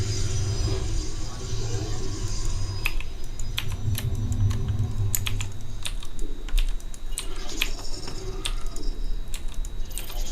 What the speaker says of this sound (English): Mechanical keyboards are fucking awesome.